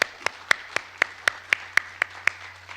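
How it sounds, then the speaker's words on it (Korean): Slow, evenly spaced hand claps at a Korean church service, about ten sharp, crisp strikes at a steady beat over a low hum, with no voices. "우리 모든 영광을 하나님께 돌려드리며 박수로 서로 격려하겠습니다"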